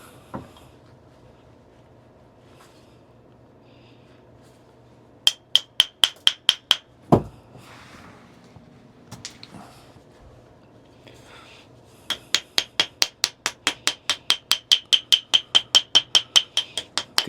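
Sharp, ringing clicks of stone striking freeze-cracked Knife River flint during knapping, a quick burst of about seven, a heavy knock, then a long steady run of evenly spaced strikes.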